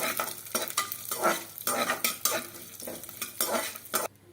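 Cashews and almonds frying in ghee while being stirred: a steady sizzle broken by repeated scraping and clinking of a spoon against the pan, close and fairly loud, with no voices.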